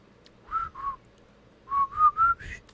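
A person tries to whistle, producing two short airy tones, a pause, then four more rising whistled notes, close and fairly clear with no talking.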